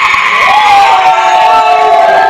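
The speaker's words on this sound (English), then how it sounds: "Ace Dallas instructing this crowd to cheer for him" Crowd at a live wrestling match cheering and shouting loudly, a continuous roar of many voices with whoops and a few higher children's shouts on top.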